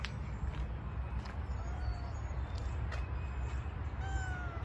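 Several faint, thin cat meows come and go over a constant outdoor background noise.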